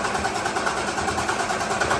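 Diesel engine fitted with a massive turbo and injector upgrade cranking over, a steady chugging churn with a rhythmic pulse and no clear catch.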